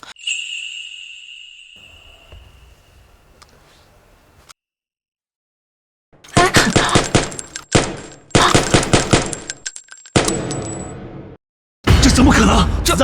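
Bursts of rapid gunfire in a drama, fired at a man, come as several loud close volleys separated by short silences, with voices and a ringing tone heard earlier in the scene.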